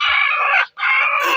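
Broody hen giving a loud, close, sustained harsh clucking growl in two long bursts with a brief pause between, no talking.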